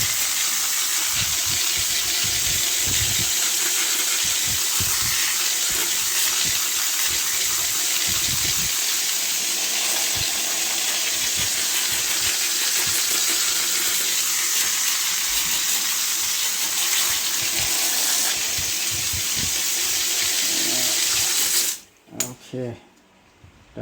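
Steady hissing water spray rinses an air conditioner part during repair of a 2017 Nissan X-Trail, loud and continuous for most of the time before cutting off abruptly, followed by a few brief clatters and a voice.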